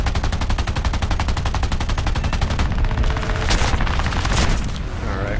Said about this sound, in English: Alright, we're getting shot again.